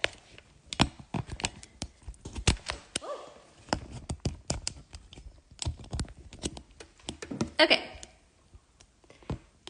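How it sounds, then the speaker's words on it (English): Typing on a computer keyboard during a tutorial, with irregular bursts of quiet, close key taps and clicks, and a brief spoken word. "Maybe that's easier for you to see what I'm typing."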